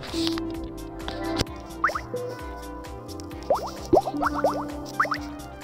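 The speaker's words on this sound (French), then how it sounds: "vous avez un petit jeu où il faut éclater des bulles." Bubbles popping in a relaxation mobile app game, a scattering of small sharp plops and drips coming singly and in quick clusters over a soft background tone, with no talking.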